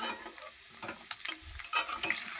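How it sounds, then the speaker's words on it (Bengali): Potatoes frying in a pan at home, being stirred; quiet sizzling with a few scraping stir strokes and light utensil clicks, close and alone. "আর এদিকে আলু ভাজাটা বসালাম।"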